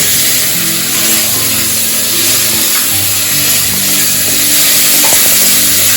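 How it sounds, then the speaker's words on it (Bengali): Loud, continuous sizzling of shrimp frying in a hot pan for a shrimp and okra dish, with a constant hiss and occasional faint scraping. "আমি এখন চিংড়ি মাছটাকে দিয়ে দিচ্ছি"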